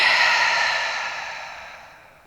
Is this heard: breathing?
yes